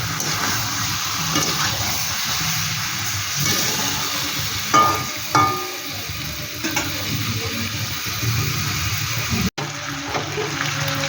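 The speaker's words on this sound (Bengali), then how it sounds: "একটু ঢেকে ঢেকে আমি সাতলাই দিই, তাহলে বেশ সুন্দর একটা ভাজা ভাজা টাইপের হয়ে যাবে" Shol fish with radish sautés in a covered pan, a steady loud sizzle and frying hiss running throughout with a few clinks of the lid or spoon.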